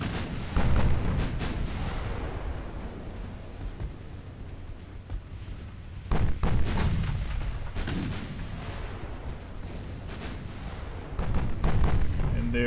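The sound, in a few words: naval artillery firing in video game Ultimate Admiral Dreadnoughts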